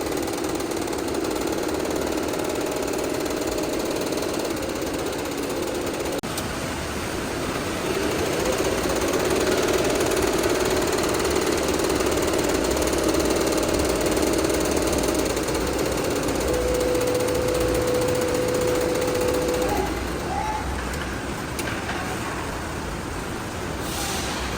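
A YunFu six-head embroidery machine stitches a T-shirt with a continuous fast rattling, knocking needle action at moderate loudness, swelling slightly mid-way, with a brief tonal whine near the end.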